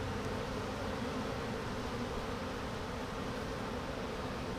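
A honeybee swarm hums around a hive with its caught queen clipped at the bottom, a steady, dense, close buzzing that holds evenly throughout with no voices.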